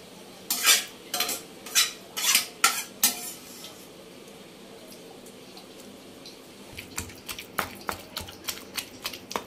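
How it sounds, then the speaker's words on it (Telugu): Ridge gourd, tomato and garlic chutney being ground in a stone mortar: sharp, rhythmic knocks and scrapes in two bursts separated by a quieter pause, close and clear. "అవి కూడా వేసుకున్న తర్వాత ఒకసారి మనం చక్కగా నూరుకోవాలి"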